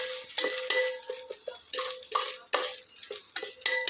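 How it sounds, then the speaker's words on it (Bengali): Meat with tomato and potato being stirred in a pan over onions frying, with repeated scraping strokes and a steady sizzle running close and continuous, no talking. "এটা এইভাবে নাড়তে হবে।"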